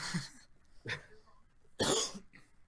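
Three separate coughs, close and fairly loud, spaced out with quiet breaths between them; the last cough is the strongest.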